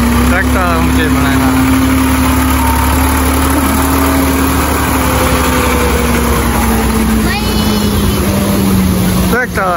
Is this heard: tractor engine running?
yes